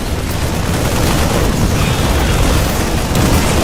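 Siege tank fire in a StarCraft II match: loud, dense booming blasts that run continuously under battle noise, with no clear gaps between shots.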